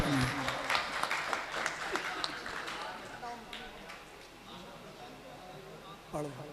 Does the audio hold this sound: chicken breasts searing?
no